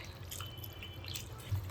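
Water trickles and drips steadily into a pan of Kerala-style netholi (anchovy) thoran, a soft, close, continuous pour with no talking.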